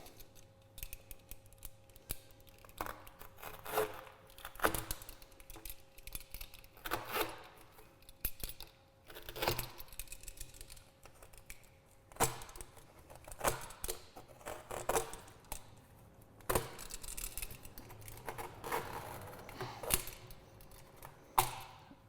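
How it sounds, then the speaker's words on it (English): A razor blade slices through flexible ducting during a particle separator install on a Honda Talon, giving a long run of close, crisp cutting and scraping strokes in irregular bursts, with small clinks between them. "we're just going to use a razor blade to do that"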